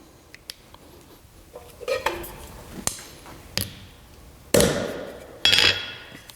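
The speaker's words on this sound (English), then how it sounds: "And now we can hammer in our T-nut." A hammer drives a T-nut into a double nail pad on a horse's shoe, giving several sharp metallic strikes with gaps between them. The two hardest blows land near the end, close and loud, with no talking.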